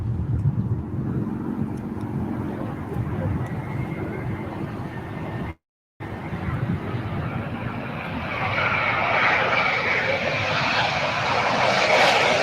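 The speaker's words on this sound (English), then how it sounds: "All right, we've got the Asiana A350." An Asiana Airbus A350 airliner lands at LAX. Its engines roar steadily, with a brief gap in the middle, then build louder toward the end as the jet passes close.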